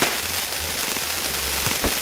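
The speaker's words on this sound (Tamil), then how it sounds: "மிகப்பெரிய லட்சுமி வெடியாக இருக்குன்னு நினைக்கிறேன்." A large Lakshmi firecracker goes off in a fireworks video game, heard as a dense, steady crackling roar with a couple of sharper bursts near the end and no talking.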